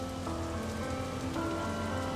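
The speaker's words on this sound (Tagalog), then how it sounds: "Ulan lang yan, hindi yan nakakamatay." Steady rain falling, a soft continuous patter at low level with no pauses; a faint tonal hum sits underneath.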